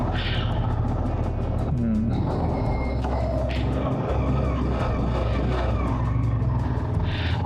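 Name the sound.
car engine warming up and revving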